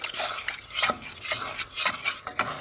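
A spoon stirs milk and sugar for condensed milk in a pan over a low flame, brisk and rhythmic, with repeated scraping sweeps and light clinks against the pan.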